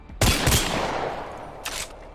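Weapon fire in the video game Apex Legends, used with Rampart's damage amp: a loud burst of several rapid shots, a short pause, then a second quick burst, with no talking.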